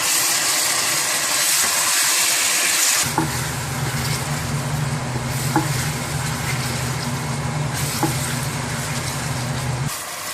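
Ginger and garlic paste hits hot oil with browned onions, giving a steady close sizzle and fry after a brief stir at the start, with a few soft utensil taps throughout.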